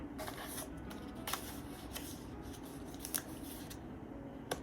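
Scissors snip through paper embellishments for a junk journal, several crisp close cuts spaced irregularly over a faint rustling background with no talking.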